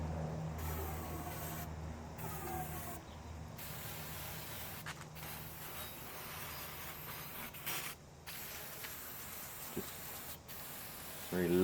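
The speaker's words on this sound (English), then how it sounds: "Some good degreaser." Degreaser sprays onto old mountain bike fork parts in repeated hissing bursts, close and moderately loud, each spray separated by brief gaps.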